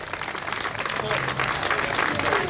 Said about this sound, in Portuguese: uma grande salva de palmas para os Massacotes.